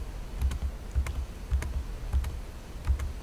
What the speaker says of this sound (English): simply take your mouse pointer to this and you continue clicking until you get the appropriate symbol